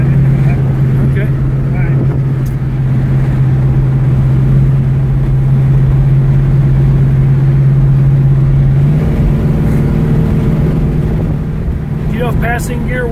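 Strong low engine drone from a 1968 Dodge Charger builds under hard acceleration through a passing-gear kickdown, its pitch shifting partway through, with a voice talking over the steady roar.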